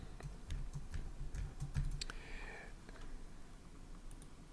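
Fingers tap out a quick burst of keystrokes on a computer keyboard, crisp close clicks in an irregular rhythm over a quiet room.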